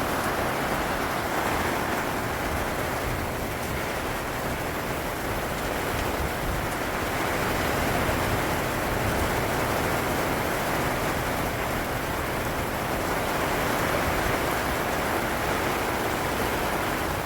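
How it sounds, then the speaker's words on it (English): Heavy rain hammers down without pause at a campsite in the Western Australian outback, a loud, even wash of noise with no voices. "That was proper rain."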